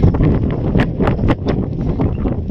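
Outdoor wind buffets the microphone in a steady, loud, rumbling roar with brief gusty swells, and no other clear sound.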